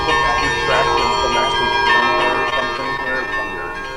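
Church bells ring continuously on location in a soap opera scene, a bright layered peal held steady beneath ongoing talk.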